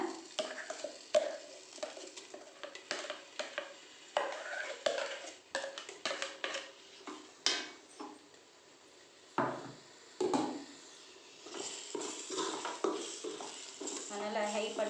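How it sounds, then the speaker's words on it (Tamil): Chicken salna masala being stirred in a pan over high heat, with repeated clanks and scrapes of a spoon against the metal over a low sizzle, while a person talks throughout. "இதெல்லாம் கொஞ்சம் நல்லா கிண்டி விடுங்க"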